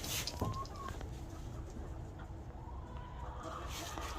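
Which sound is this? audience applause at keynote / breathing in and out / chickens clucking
chickens clucking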